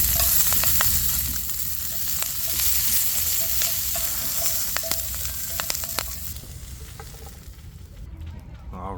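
Garlic scapes fry in a hot pan with a loud, continuous sizzle and scattered sharp crackles and pops, close up, easing off slightly near the end.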